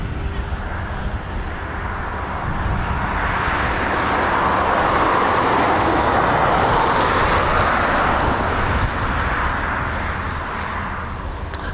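Eurofighter Typhoon FGR4 jet taxiing at RAF Coningsby: a loud, continuous broadband engine roar that swells slightly in the middle and holds steady throughout, with no voices over it.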